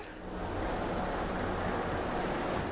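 Water poured steadily into a pot in Rise of the Tomb Raider, a continuous, even rushing splash that holds at a constant level for a few seconds with no voices over it.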